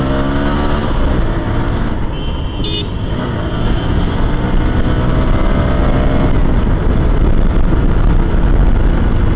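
A motorbike ridden along the Marine Drive coastal road near Cox's Bazar gives a loud, continuous engine drone, largely buried under heavy wind rush, with a brief horn-like tone near the start.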